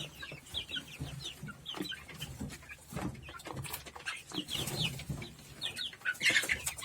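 Chickens and chicks cluck and peep in a backyard coop, including a young rooster with greyish-buff and white plumage, with busy overlapping calls, scratching and small rustles near the microphone throughout.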